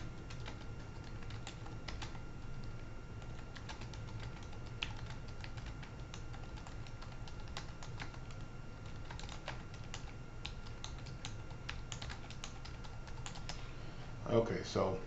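Computer keyboard typing at a desk, a fast run of light clicky keystrokes over a steady low background hum, fairly faint and continuous, ending with a brief louder rustle.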